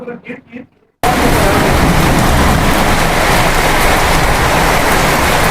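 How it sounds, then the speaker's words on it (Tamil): Heavy rain pours down on a trip to Ooty, a loud, dense, continuous hiss that starts abruptly after a moment of quiet talk and then fills everything. "எனக்கு தெரிஞ்சு மழை நிக்கிற மாதிரி தெரியல"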